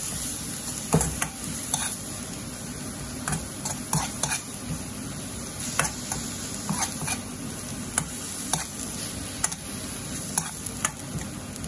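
Spinach for saag paneer cooks in oil, with a steady sizzle and repeated sharp scraping and clinking stirs against the pan, close and busy, and a dog barking at times in the background.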